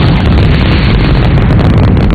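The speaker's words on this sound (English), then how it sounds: "The explosion had blown away the side of the service module" A spacecraft service module blows apart in an explosion, heard as a loud, continuous roaring rumble that holds steady throughout without a clear start or end.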